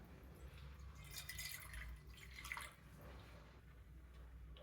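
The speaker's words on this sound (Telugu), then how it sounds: "నీళ్లు పోస్తున్నాను" Half a cup of water poured into a pan for making rice-flour dough for milk rice noodles, a soft steady splashing and trickling stream heard close by for a few seconds.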